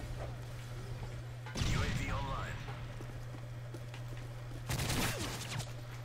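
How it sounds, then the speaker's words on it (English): Gunfire in Call of Duty: Modern Warfare 3 comes in two loud bursts of rapid shots, separated by a steady game hum, with voices or other game sounds mixed in. "I was shooting directly at him and he did not want to die"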